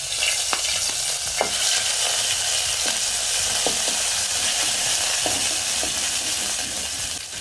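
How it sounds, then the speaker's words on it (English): Ginger frying in about a tablespoon of hot cooking oil in a dry pan, a steady, loud, close sizzle with scattered crackles and pops throughout and no voices. "once my pan is nice, hot and dry, I'll go in with about a tablespoon of cooking oil. I'll start off by adding my ginger"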